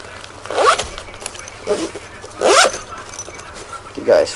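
The zipper on an Alpaka Ghosting Pro sling bag is pulled in several short, sharp zips, close and loud, with pauses between strokes and someone speaking nearby.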